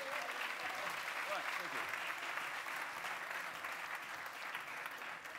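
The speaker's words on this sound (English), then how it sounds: "Can we send them on their way with some motivating applause" At an international science-communication competition final, the audience gives warm, sustained applause at a moderate, slightly distant level, with a voice speaking faintly beneath the clapping.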